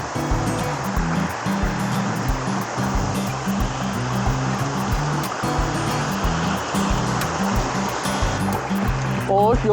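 Mountain valley stream rushing over rocks, a loud, close, unbroken wash of flowing water that stays steady throughout.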